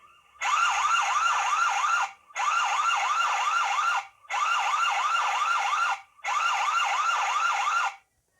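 An outdoor WiFi IP CCTV camera's motion alarm siren sounds in four loud, even bursts of a rapidly warbling electronic wail, each about two seconds long with brief gaps between them, close and clear with no talking.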